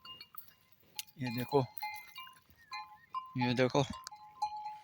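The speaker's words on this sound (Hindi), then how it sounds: "वो सामने घंटी वाली बकरी दिखाता, वो ये वाली घंटी, दोनों घंटी वाली बकरी है।" Belled goats in a Thar desert village give loud bleats in two bursts, with faint metallic clinks of their bells in between, while someone talks nearby.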